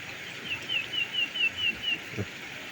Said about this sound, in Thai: นี่ที่เสียงนกเสียงกา